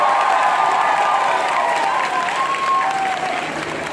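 A large outdoor rally crowd applauding loudly, a dense wash of clapping with some cheering and whistles, steady then slowly easing, voices faintly mixed in.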